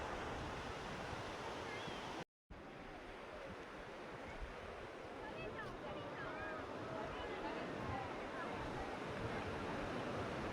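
Steady roar of surf and breaking waves at Digha beach fills the air, with wind buffeting the microphone and distant voices of crowds bathing faintly mixed in.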